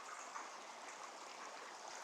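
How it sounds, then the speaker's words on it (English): A small river stream runs through a quiet valley beside a logging road, a soft, steady rush and trickle of water heard faintly and continuously with no voices. "where I am right now is this absolutely incredible little river valley"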